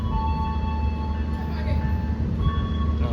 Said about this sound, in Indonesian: kereta api Pandalungan udah kelihatan nih